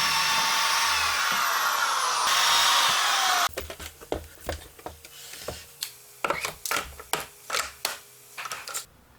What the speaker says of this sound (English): drill holes to match the existing holes in the tabletop